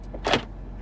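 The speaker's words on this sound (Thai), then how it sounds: "ฟังเสียงเปิดประตูนะและที่สำคัญปิดเบาๆไม่ได้นะต้องปิดแรงๆ" A door on a Mercedes-AMG G 63 shuts with one solid, heavy thud about a third of a second in, preceded by a faint click of the latch. It is close, brief and unaccompanied.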